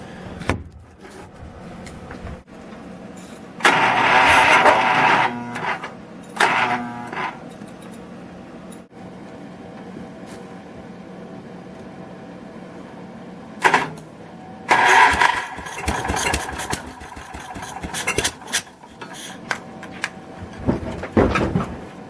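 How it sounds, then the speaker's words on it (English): A rebuilt Gravely 4WD tractor engine cranks in bursts, catching and sputtering between attempts, close and loud with quiet gaps between tries. "we'll see if it'll fire over"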